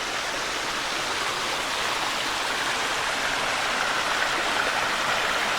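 Water from a small stream runs over rocks along a rocky creek, a steady, dense rushing wash that stays even and close throughout, with no voices.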